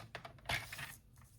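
Paper being cut for a handmade card, a short series of crisp snips and scraping strokes close by, with one louder cut in the middle and quieter ones trailing off.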